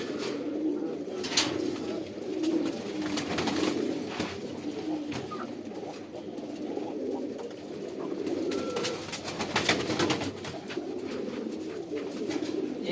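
Khoira pigeons coo in low, soft, overlapping calls throughout, a steady murmuring flock heard close by with occasional louder coos and faint rustling.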